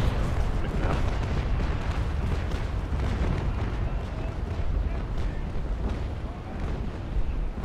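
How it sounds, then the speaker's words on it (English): Shore fort cannons firing on a fleet of sailing warships in the naval battle game Naval Action, a continuous rumble of heavy booms and distant bursts, with voices talking over it. "the shore forts are firing, boys"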